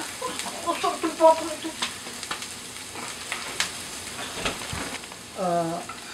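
Onions with pepper sizzle in a pan while cooking pata kare-kare, a steady frying hiss broken by scraping stirs, with brief voiced sounds near the start and end.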